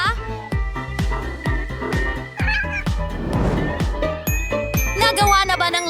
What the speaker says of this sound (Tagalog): At narito ang aking alagang pusa.